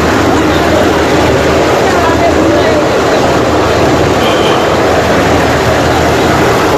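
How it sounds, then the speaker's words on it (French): Helicopter descending and landing close by in an urban setting, a loud continuous rotor and engine roar filling the whole clip without letup, with voices faintly mixed into the din. "il y a un hélicoptère qui est à peine descendu là."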